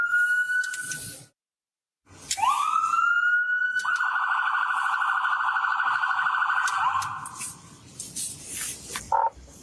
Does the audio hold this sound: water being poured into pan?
no